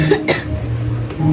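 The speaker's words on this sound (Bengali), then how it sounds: "কাশি হচ্ছে কেন?" A single short cough close by, followed by quiet room tone.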